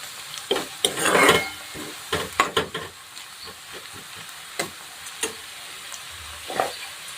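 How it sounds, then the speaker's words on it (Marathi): Onion, green chili, garlic and cumin sizzle in hot oil in a pan while being stirred, with irregular scraping and stirring strokes, brief bursts of frying hiss and quiet gaps between them. "कांदा मिरची लसूण जिरं छान असा कलर लालसा रंग तळून घ्यायचं"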